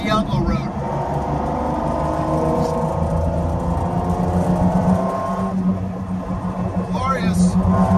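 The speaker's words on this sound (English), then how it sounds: "This car has straight through exhaust too, so it's very loud." A 1992 Lamborghini Diablo with a straight-through exhaust drones loudly and continuously on a mountain canyon road, its engine note swelling and rising under acceleration while someone talks over it.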